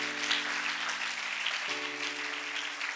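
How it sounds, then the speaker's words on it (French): A church congregation applauding for the Lord, a continuous wash of clapping heard at moderate distance over a steady sustained organ or keyboard tone. "Est-ce que tu peux acclamer pour le Seigneur?"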